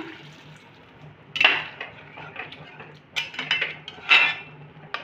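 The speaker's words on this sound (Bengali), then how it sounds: "সেই জলটা কিন্তু আমি গরম জল দেব, গুনগুনা গরম জল দেব। তো চলুন একটু আমি জল দিলাম।" Warm water is poured into a pan of fried lentil bora for a jackfruit curd-bora dish, with bursts of splashing and metallic pan and utensil clatter over a low hum.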